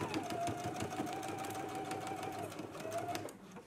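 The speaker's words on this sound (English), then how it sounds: "we can go to the sewing machine. We're going to stitch at a 5/8 inch seam allowance" Sewing machine stitching a waistband seam on a McCall's M8480 garment, a steady close mechanical whir running continuously for a few seconds with a brief change in pitch near the end, faint background voice.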